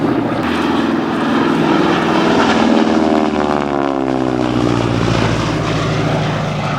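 A North American T6 Texan (Harvard) trainer aircraft flies past at an airshow, its propeller engine roaring loudly and close with a rising then falling sweep as it passes, no voices.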